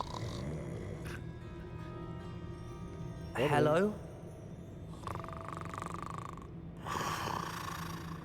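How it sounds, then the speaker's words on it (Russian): In the video game Hogwarts Legacy, a sleeping goblin snores in slow, drawn-out bursts, and one short guttural snort rises above the rest. A brief spoken word and game ambience run quietly around the snores. "Слушайте, гоблин храпит."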